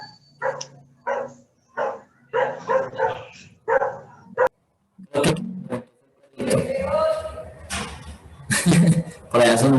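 A small dog barks repeatedly in short bursts somewhere near a school geometry class, with a teacher talking between and over the barks.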